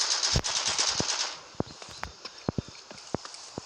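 Gunfire in an online shooter game: a dense burst of rapid shots at the start, then scattered single sharp reports spaced irregularly, fairly loud with no talk.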